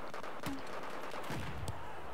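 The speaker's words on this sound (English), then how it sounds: "First kill with grenade launcher." Gunfire and grenade launcher shots from the video game Battlefield 4 on PS3 come as a few dull, booming reports over a constant noisy battlefield background.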